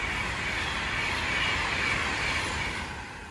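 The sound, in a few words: Pendolino train passing Lichfield Trent Valley station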